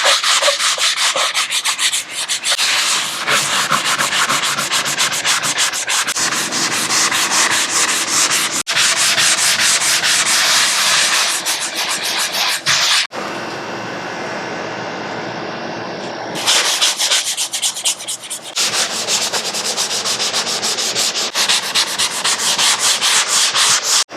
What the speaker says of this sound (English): we're going to go ahead and sand it down once more, this time using our 120 grit sanding block